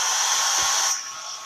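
A hair dryer blows steadily over chalk paste on a board, a close, loud airy whoosh with a high whine that softens slightly toward the end.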